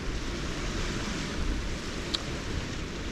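Steady southeasterly wind roars at the seashore on the Penarth coast during a fishing session, a constant broadband rush with surf noise beneath it and one brief click partway through.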